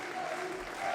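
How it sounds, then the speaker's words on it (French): Faint, distant applause from a crowd at a football stadium, a minute of clapping in tribute to a former assistant coach, heard as a soft continuous wash. "Une minute d'applaudissement va pouvoir être donnée en hommage à leur ancien entraîneur adjoint."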